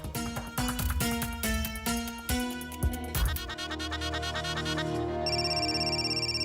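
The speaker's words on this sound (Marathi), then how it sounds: "फोन आला." A phone ringtone plays for an incoming call in a Marathi TV serial scene: a looping electronic melody of repeated notes, clear and continuous, with a higher chiming pattern near the end.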